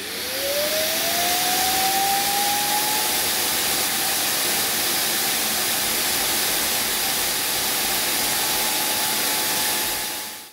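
A loud, steady whooshing suction roar from an iLife T10s robot vacuum's base station emptying dust at 20,000 Pa, with a whine that rises in pitch over the first seconds and then holds constant.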